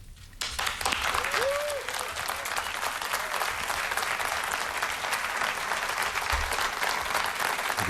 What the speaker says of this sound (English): Sustained applause on this.